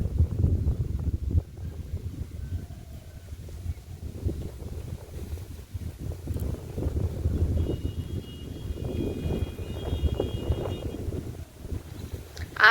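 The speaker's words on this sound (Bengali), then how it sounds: "আর এখানে প্রচন্ড হাওয়া হচ্ছে," Strong wind blows outdoors at a fishing spot by the water, roaring and buffeting the microphone in heavy low gusts that swell and ease throughout.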